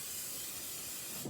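Aerosol cooking spray hisses steadily into a parchment-lined springform pan, one continuous close, bright burst of spray lasting about a second with nothing else over it.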